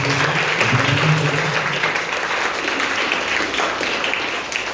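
A crowd claps loudly and continuously at an academy ceremony in Raipur, welcoming a newly selected police sub-inspector candidate. The applause is a thick, even wash of hand claps lasting the whole moment.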